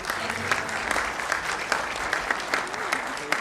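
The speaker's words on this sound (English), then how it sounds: "Let's give her a big round of applause." An audience at a mayor's night community event gives a full, dense round of applause for a new events coordinator, loud and sustained for a few seconds, with some crowd voices mixed in.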